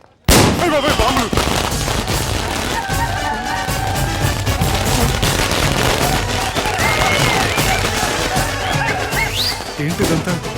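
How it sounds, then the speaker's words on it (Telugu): Bombs exploding in a film scene make a loud, dense barrage of blasts and crackling bursts that runs almost the whole clip after an abrupt start, mixed with voices and other soundtrack noise. "బాంబులు."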